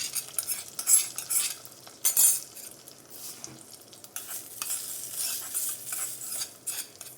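Pongal being stirred and fried with ghee in a pan, with repeated scraping and clinking of a spoon against the metal alongside a soft, steady sizzle, close up and without talk.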